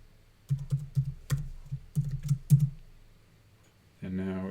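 Typing a password on a computer keyboard: two short bursts of close, crisp key clicks, a handful of strokes each, in a quiet room, followed by a brief voice.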